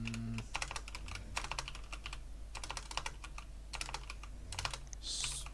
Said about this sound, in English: Stop typing pit.